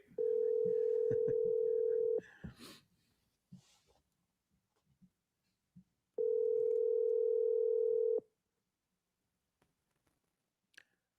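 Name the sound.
telephone being dialed, dial tone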